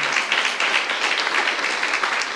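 A church youth-service congregation claps together, a brief, dense burst of applause that stays even and fairly loud for a couple of seconds with no voices over it.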